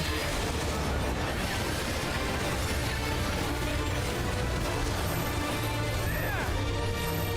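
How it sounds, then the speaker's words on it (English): Crystallized rock shatters into pieces during an FFXIV battle, heard as a dense, sustained crashing roar. The debris sound blends into loud, continuous game effects for several seconds. "Crystallized rock shatters into pieces."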